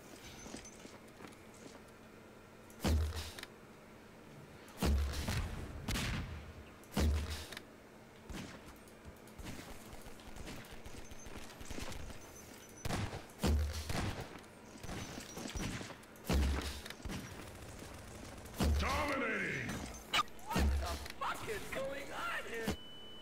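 Gunfire in Half-Life 2 Deathmatch: sharp, isolated shots a few seconds apart ring out over steady game ambience, with some mechanical creaks.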